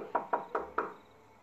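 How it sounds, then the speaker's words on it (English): Four hard knocks on the front door of a building, evenly spaced in quick succession, close and sharp, followed by quiet. "I just knocked really hard."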